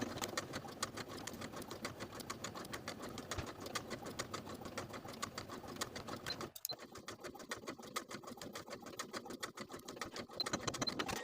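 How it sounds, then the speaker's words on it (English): A sewing machine stitching in the ditch of a jacket neckline seam, a quiet rapid ticking whir that runs evenly, briefly stops and then resumes, with no voices. "I'm going to stitch in the ditch of that neckline seam, catching that folded edge of the neckline facing as I go"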